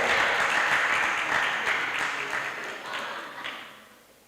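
Audience applause at a junior news anchoring semi-final, a dense wash of clapping that holds steady and then gradually thins and fades out.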